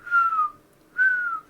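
A person whistles two short descending notes, a pause between them, imitating the target-mark cue of a companion in the game Warframe.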